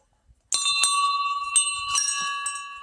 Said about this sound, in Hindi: थोड़ा सा घंटी बजा दूं।